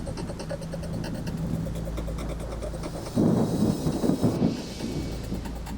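Thunderstorm with rain in a hot, humid climate: a steady wash of rain under a low rumble, swelling into a louder, rolling burst of thunder midway before easing back, with no voices.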